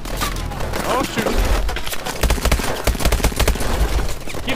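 Suppressing gunfire in the video game Call of Duty Advanced Warfare, a dense, rapid rattle of automatic shots over a loud battlefield rumble, with a voice speaking over it.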